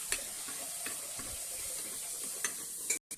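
Onion, chili and greens fry in a pan for cauliflower sukka. A steady close sizzle continues throughout, with light stirring scrapes and a few clicks over it.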